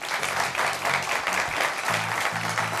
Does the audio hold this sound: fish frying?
no